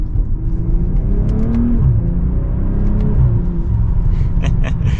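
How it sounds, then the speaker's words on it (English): A BMW M340i with the B58 engine accelerates in Sport Plus mode, a steady, loud in-cabin engine drone rising in pitch as it pulls through the gears, with someone talking over it. "setting off now in the M340i in sport mode, everything. We're in Sport Plus actually"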